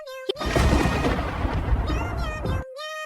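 A heavy rumble of thunder rolls for a couple of seconds between bursts of bright tonal music.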